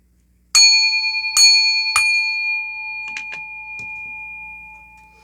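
A bell or chime rings three times in even succession, each strike bright and sustained with a long ringing decay, followed by a few faint soft clicks as the tone lingers.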